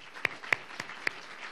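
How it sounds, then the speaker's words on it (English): Audience applause at a Teacher of the Year ceremony, faint and distant, with a handful of separate claps standing out over a thin spread of clapping. "If we can give Laura another round of applause."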